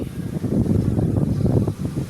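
Riverbank ambience beside the Mekong at Nakhon Phanom, Thailand: a steady low rumble of wind buffeting the microphone, loud and continuous, with possible faint water underneath and no voices.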